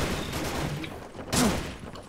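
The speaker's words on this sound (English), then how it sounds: "Weh, dia pakai shotgun weh lah ni" Shotgun firing in a video game, one loud close blast in the middle of a steady background, with a brief second burst just at the end.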